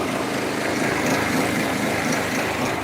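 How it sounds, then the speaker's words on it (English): Running engine of an inexpensive diesel generator under light load, surging in a steady womping pulse; a continuous broadband drone holds at constant loudness throughout, close to the listener with no talking. "And the generator's doing that diesel thing, and I'm not even running nothing heavy, Frankie."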